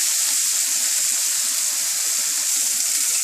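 Half a medium tomato sizzles in a hot pan for dabeli potato filling, a loud, even frying crackle that runs unbroken throughout with no voices.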